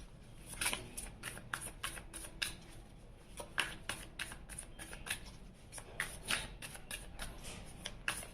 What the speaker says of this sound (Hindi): चलिए अब आपके पर्सन के लिए हम यहाँ पे शफल कर लेते हैं